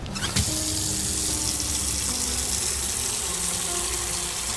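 Water gushes steadily into a container in the Autopsy Simulator horror game, a continuous running-tap wash that begins with a brief splash and carries on alone.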